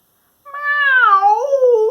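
A single drawn-out meow voiced by a human imitating a cat, a clear, close wavering cry that bends downward in pitch and stands alone in silence.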